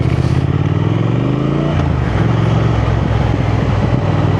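Triumph Thruxton 1200 motorcycle pulling away in first gear, its engine note rising steadily under load before easing at the shift, loud and close with a continuous throbbing exhaust.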